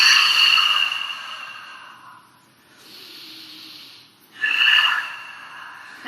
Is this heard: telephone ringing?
no